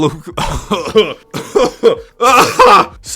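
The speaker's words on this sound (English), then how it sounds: "I'm going to edit that cough out" Several harsh, close coughs and throat-clearing bursts in quick succession, with brief pauses between fits.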